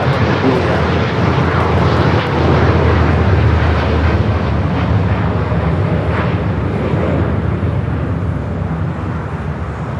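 Airbus A380 jet engines at LAX roaring loud and close with steady broadband thrust noise that holds for about ten seconds, fading only slightly toward the end.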